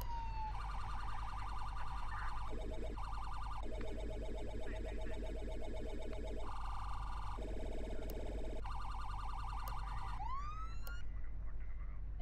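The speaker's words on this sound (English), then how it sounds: "And those are the sirens," Police car sirens in a city patrol game alternate between two-tone hi-lo patterns and rapid yelping modes, cycling through several distinct tones before ending with a rising wail, over a constant low hum.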